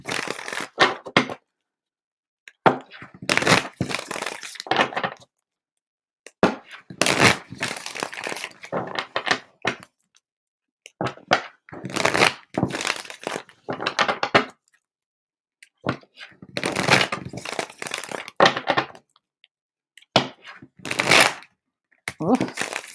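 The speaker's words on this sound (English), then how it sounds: "these are just some clearing shuffles." Repeated shuffles of a deck of playing cards, close and crisp, coming in bursts of riffling and clattering separated by short silences, with no voices.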